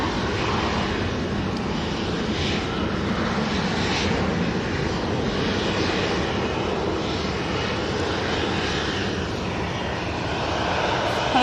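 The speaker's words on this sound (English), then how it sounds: "That's a Ryanair that's just landed, that you can probably hear in the background from Rome." Ryanair jet airliner just landed from Rome at Manchester Airport, a broad steady engine rumble and rush filling the background, continuous and moderately distant.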